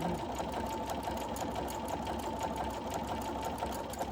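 A sewing machine stitches steadily at a constant, even pace, its whir filling the whole stretch without pause and with no talking over it.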